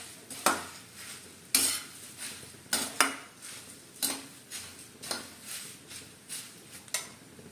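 Peanuts roast slowly in a pan on low heat while a spoon stirs them, producing repeated metallic scrapes and clinks against the pan over a faint sizzle, quiet and close.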